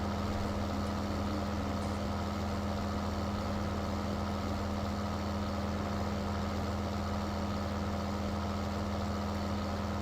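A Fendt tractor in the video game Farming Simulator runs at a steady idle, giving a continuous low engine hum with an even drone throughout.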